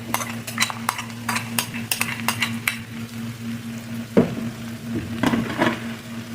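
Tomato ketchup is stirred into a sweet and sour sauce for spanish mackerel, a spoon scraping and tapping the pan over a steady low simmering hiss, with no talking.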